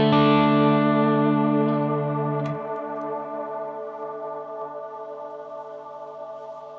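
Guitar played through a Strymon Blue Sky reverb pedal on its modulated setting, with lows and highs cut: a sustained chord swells with shimmering, wavering reverb, a second softer strike follows, and the wash slowly decays without any talking.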